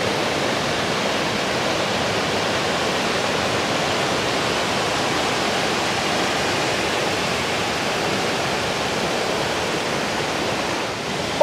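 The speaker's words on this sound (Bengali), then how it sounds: "বৃষ্টির জন্য হয়তো ঝর্ণাটা বেড়ে গেছে কিন্তু এতটাই সুন্দর" Near and alone, a waterfall swollen by monsoon rain roars in a dense, unbroken rush of falling water that holds steady throughout.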